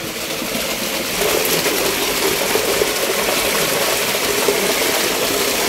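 Water rushes and gushes steadily inside Sunpani Cave in Kolgaun, East Rukum, a loud continuous roar that swells slightly after the first second and stays dense and close throughout, with no voices.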